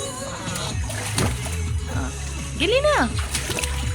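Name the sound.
water splashing while swimming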